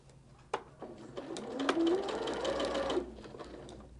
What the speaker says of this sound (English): We'll sew down about half the way